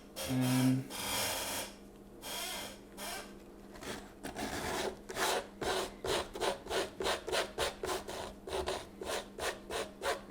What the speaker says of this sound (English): I don't want to scrape it too much. I don't want to like scrape the paint off